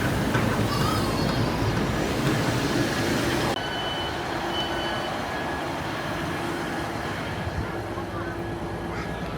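Steady rumble and rush inside a moving passenger train carriage in North West England, a continuous low drone with faint tonal hums throughout and no talk.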